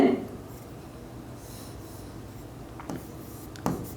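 Pen or marker writing during a recorded lesson, soft scratchy strokes with a few short sharper marks near the end, faint and close, a voice briefly at the start.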